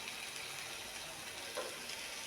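Masala with turmeric sautéing in a pan makes a faint, steady sizzle with a soft hiss and an occasional light stir or scrape.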